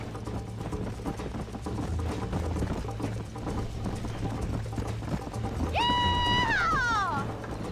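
Galloping horses in the Western video game Red Dead Redemption, hooves drumming steadily in the background of a race, with a shout and a horse's whinny rising near the end.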